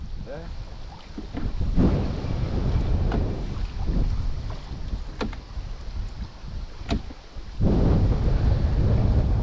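Strong wind buffets the microphone in loud, gusting rumbles that rise and fall outdoors on a spinning-rod fishing trip on the Pechora River, with brief voices and knocks in between.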